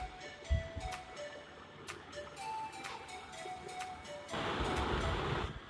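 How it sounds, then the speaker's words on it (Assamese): Pieces of boiled egg frying in hot oil for an Assamese egg curry, a steady soft sizzle with occasional pops and crackles that grows louder toward the end, with no voices. "তেল গৰম হোৱাত এতিয়া মই পিচকেইটা ফ্ৰাই কৰি ল'ম।"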